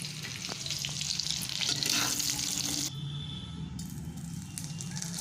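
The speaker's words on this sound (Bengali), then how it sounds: "এখন দিয়ে দিলাম রসুন কুচি আদা কুচি রসুন আর আদা কুচিটা দিয়ে একটু নেড়ে চেড়ে নেব" Chopped garlic and ginger sizzle in hot white oil in a wok for soya chilli, a busy crackling fry with occasional stirring scrapes, close and continuous.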